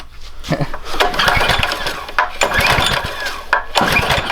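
A small mini bike engine sputters and fires up, running with a choppy, uneven cam lope amid clattering mechanical noise.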